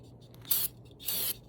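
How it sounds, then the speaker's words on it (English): Brake cleaner sprayed on a part of a 1977 Chevy Camaro left parked almost 20 years: two close, hissing aerosol bursts, the second longer than the first, over a quiet background. "Spray a little on it to break it up, or try to loosen it up"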